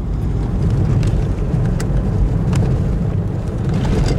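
A car drives along with steady, loud road and wind noise throughout, a continuous low rumble with occasional faint ticks and buffeting, heard from inside the vehicle with no talking.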